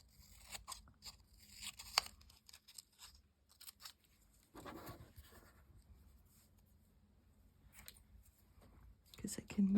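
Scissors cutting out a vellum paper pattern, close and quiet crisp snips and papery crackles coming in scattered short bursts with pauses, along with soft handling rustles.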